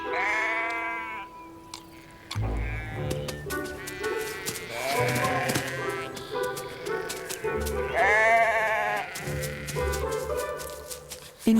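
Sheep bleat repeatedly close by in an orchard in autumn or winter, several wavering cries overlapping one another, with soft rustling and movement between calls.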